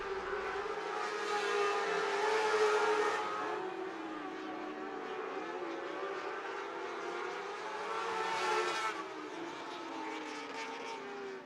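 USAC National sprint cars racing at Ocala Speedway, a pack of engines droning and wailing together around the track, rising in two loud swells as the field passes, steady and moderately distant.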